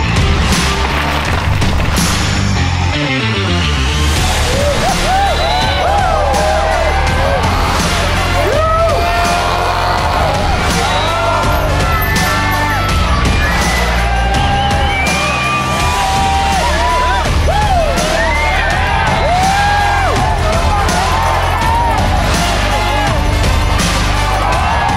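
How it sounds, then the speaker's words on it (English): Loud, dense crowd cheers, whoops and yells fill the air at a muddy mountain bike race in New Zealand, continuing steadily throughout with occasional bangs and booms mixed in. "you can hear like the crowd"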